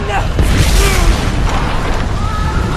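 Heavy, rumbling artillery shell explosion booms in a video game fill the scene, loud and continuous, with shouting voices mixed in over the blasts.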